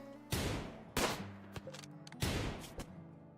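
Gunfire during a raid in RimWorld, three sharp separate shots with decaying tails plus a few lighter pops between them, spaced irregularly over a quiet background.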